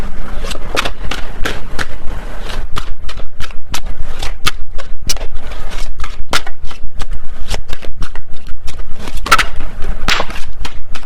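Tarot cards being shuffled by hand, a close, loud run of rapid riffling snaps and flicks in uneven bursts that continue for about eleven seconds.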